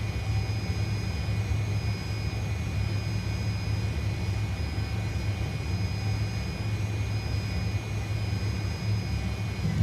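A Fokker F28 airliner in a flight simulator takes off with flaps set to 11, its engines giving a loud, constant roar with a steady whine over it, with no voices.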